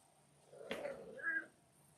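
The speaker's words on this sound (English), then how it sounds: "Welcome to Joan So's Live with Lana the Cat." A domestic cat lets out a short, soft meow followed by a brief higher call, close by in a quiet indoor room during a live show.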